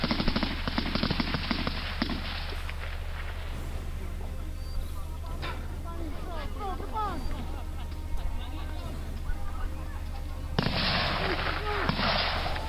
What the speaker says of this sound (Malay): Okay, baku tembak ya.